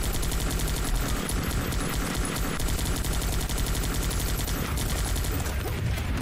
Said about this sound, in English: But now this machine gun starts mopping up these guys.